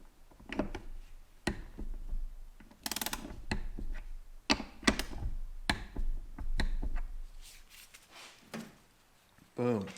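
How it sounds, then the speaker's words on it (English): A torque wrench tightens connecting rod bolts on an engine, giving repeated sharp ratcheting clicks and metallic ticks in bursts, close up, with people talking in between. "Torque the rod bolts 10 foot-pound."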